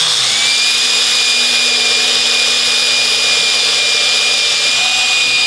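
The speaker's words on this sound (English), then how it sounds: "you'll be drilling through that step" A power drill bores through the step of an electric snowmobile tunnel during seat assembly, producing a loud, continuous, close-up motor whine that holds steady throughout without pause; no one talks.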